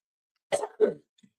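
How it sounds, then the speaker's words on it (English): A single short throat clearing, two quick rough bursts, close and alone in silence. "Once I clear my throat"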